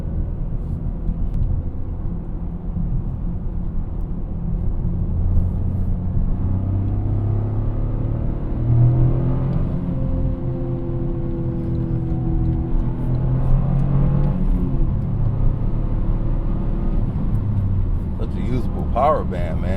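A Toyota GR Corolla's engine drones and revs while driving at night, a steady low rumble and growl heard from inside the car, with the pitch rising and falling as it pulls through the gears.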